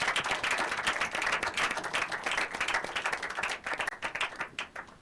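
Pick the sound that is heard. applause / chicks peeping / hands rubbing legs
applause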